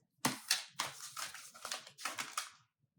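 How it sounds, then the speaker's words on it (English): A deck of oracle cards is shuffled in the hands nearby, giving several quick riffling, fluttering bursts with short pauses between them. "this deck is so hard for me to shuffle."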